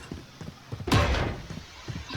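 A door busted open during a solo match of a shooting video game, one loud broadband crash with a thudding low body, flanked by soft, rhythmic footstep-like thumps before and after.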